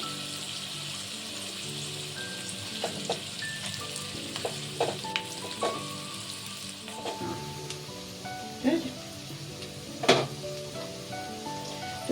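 Sliced onions sizzle in hot oil in a pan, a steady crackling fry heard up close with occasional scrapes and clinks as they are stirred, and no voices.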